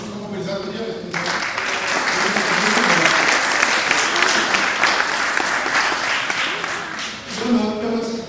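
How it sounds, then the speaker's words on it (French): An audience at a Geneva neighbourhood council meeting applauds warmly, a dense sustained clapping lasting several seconds, close and loud, with brief speech before and after. "On peut les applaudir."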